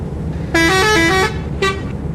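Two horn blasts from a truck in Euro Truck Simulator 2, a long one followed by a short toot, loud and close over a low engine rumble.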